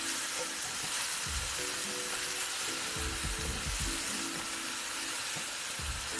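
Diced apples coated in brown sugar and cinnamon sizzling and frying in a pan, a continuous close hiss with a few soft stirring scrapes underneath.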